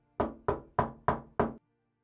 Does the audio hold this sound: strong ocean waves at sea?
no